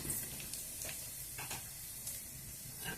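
Cloves, a cinnamon stick, shahjeera and a bay leaf sizzle steadily in hot oil for corn palav, a close, continuous frying hiss with faint stirring scrapes and no voices.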